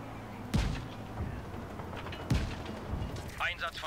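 Gunfire from enemy soldiers in Just Cause 3, two heavy booming shots about two seconds apart at moderate distance, with a voice talking at the end.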